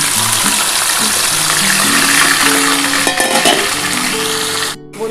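Masala-coated ritha fish frying in oil in a kadai for chilli fish gives a loud, steady sizzle that runs almost the whole time, dipping into a brief gap near the end.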